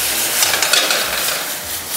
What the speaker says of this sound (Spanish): acá vamos a saltear ligeramente